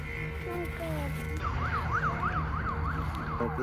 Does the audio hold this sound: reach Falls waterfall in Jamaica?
no